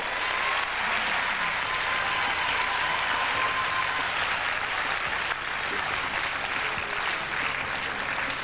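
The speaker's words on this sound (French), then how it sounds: "Allez, applaudissements" Studio audience at the French quiz show Questions pour un champion applauds steadily for over eight seconds, a dense, even wash of clapping with no talk over it.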